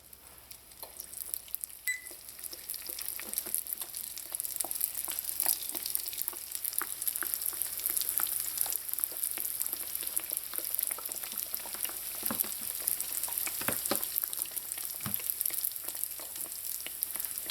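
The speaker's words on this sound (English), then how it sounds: "So let's get started on frying our aloo pies." Steady oil sizzling and crackling throughout as Trinidadian aloo pies (potato pies) fry in hot oil, with scattered sharp pops and spits over a continuous hiss, close by and fairly quiet.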